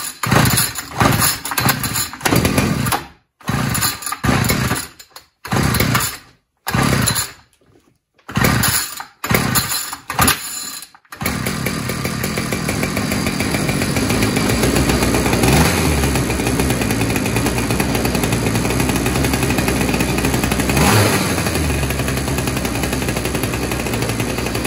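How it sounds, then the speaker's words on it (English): A repaired string trimmer (weed wacker) engine, fuel bulb bypassed, sputters and cuts out in rough bursts, then catches and runs steadily at a loud, high, somewhat fast idle close by. "seems like it's running a little bit too fast"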